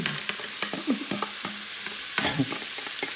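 Mirepoix vegetables sizzling in a hot pan, a bright steady hiss broken by light taps and scrapes of stirring.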